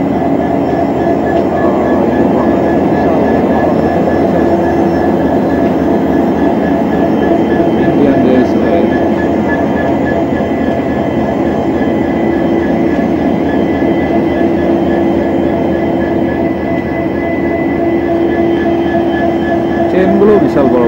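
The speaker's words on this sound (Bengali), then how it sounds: "এটা হচ্ছে আমার ট্রেন আগরতলা টু শিলচর বা শিলচর টু আগরতলা, আর এটা হচ্ছে ট্রেনের ইঞ্জিন।" Engine of the Agartala–Silchar passenger train in India, a loud steady diesel drone with constant low rumble and faint mechanical whine throughout, close by, with voices speaking intermittently over it.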